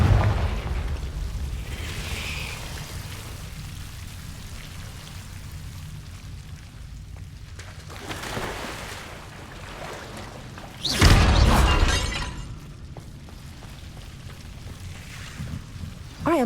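A Confringo blasting curse from Hogwarts Legacy bursts in a loud, sudden explosion with a broad crackling roar, preceded by a smaller blast and followed by a short rumbling tail over a steady game ambience.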